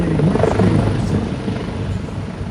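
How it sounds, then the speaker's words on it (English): An AW139 medium utility helicopter flies at the Malta International AirShow, its rotor and turbine drone loud and steady, easing slightly as it continues. "The 139 is a medium-sized utility helicopter."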